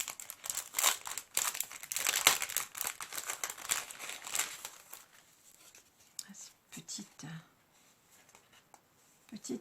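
Paper crinkling as a mailed package is opened, dense rustling and crackling for the first few seconds, then quieter scattered handling rustles, with soft talk at times.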